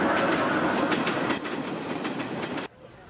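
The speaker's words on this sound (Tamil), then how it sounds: "ஆனா பின்னாடி ட்ரெயின் கிராஸ் ஆகிற சத்தம் கேட்டுச்சு" A train rolls past close by, its wheels clattering in a steady clickety-clack rhythm over the rails, then cutting off abruptly to near quiet.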